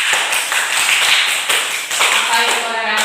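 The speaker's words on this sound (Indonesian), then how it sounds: "Bagus, tepuk tangan untuk Mas Adin." Classmates in a classroom give a steady round of hand clapping for a student, dense and continuous for about three seconds, with a voice briefly audible near the end.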